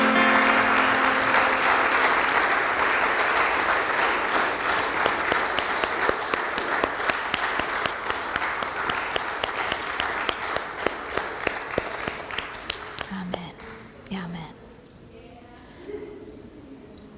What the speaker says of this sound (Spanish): Dale un aplauso a tu Señor.